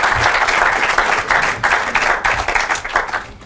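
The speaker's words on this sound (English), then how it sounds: "Please, a round of applause for them." Audience applause for a secondary school team at a televised quiz competition, a steady, dense round of clapping from a large crowd that carries evenly throughout.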